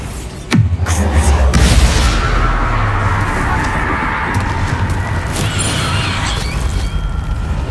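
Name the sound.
Bombarda blasting spell explosion in video game Hogwarts Legacy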